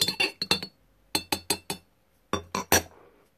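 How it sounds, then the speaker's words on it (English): A spoon clinks against a glass while stirring stevia into a strong Lapsang Souchong tea, close and crisp, with three quick bursts of several sharp rhythmic taps separated by short pauses. "I'm just going to stir in the stevia."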